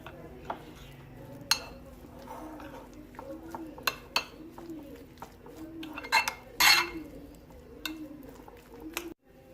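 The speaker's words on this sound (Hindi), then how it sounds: "अब मैं इसे मिक्स करूँगी पहले अच्छे तरीके से चिकन को इसके साथ।" Chicken being mixed with cream in a bowl makes rhythmic, repeated wet squelches and spoon scrapes against the bowl, with occasional sharper clinks and a faint voice.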